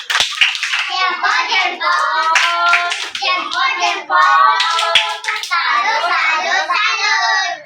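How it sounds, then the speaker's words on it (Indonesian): A group of children and adults in a classroom perform a rhythmic thumb-clap cheer, with sharp clapping set against chanted voices in a loud, lively burst. "Berikan tepuk jempol untuk Noveli dulu."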